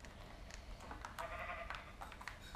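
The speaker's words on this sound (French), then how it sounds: "Oh tiens, il y a plein de moutons" Sheep in a video game bleat in a flock, a wavering, nasal baa that rises above a steady hiss of background noise, with soft clicks and taps scattered around it, faint and somewhat distant.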